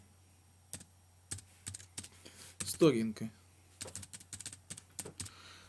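Keys clatter on a computer keyboard in scattered bursts of sharp clicks with short pauses between them, close and moderately loud, and someone speaks briefly partway through.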